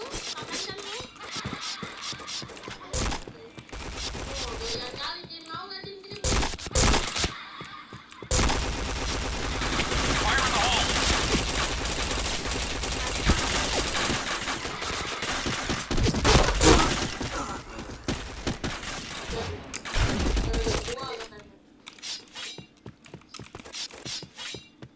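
Bursts of rapid gunfire in a video game, loud and dense, with sustained fusillades broken by brief gaps and shorter single volleys, mixed with mechanical clatter.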